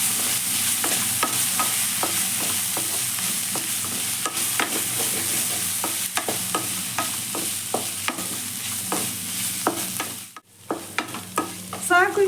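A spatula scrapes and clicks rhythmically against a pan while spicy chicken dry sizzles and fries, close and continuous with no talking.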